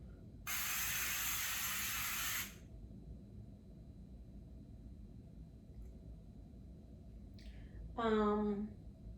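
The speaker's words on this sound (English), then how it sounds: "You don't need to shake it up, you just spray." A single two-second hiss of spray from a can, close and steady, then quiet room tone and a brief voiced sound near the end.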